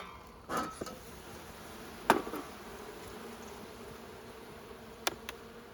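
Honey bees hum faintly and steadily around an open hive in fall, with a few sharp clicks and knocks from the hive being handled.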